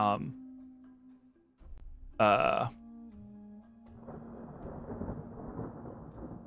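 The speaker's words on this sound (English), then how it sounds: "again with the thunder and everything that is heard, it still feels like it's about to rain at any moment" Thunder rumbles low and steady in a stormy street scene, rolling into a long broad rumble in the second half, with short bursts of other sound and a voice briefly heard earlier.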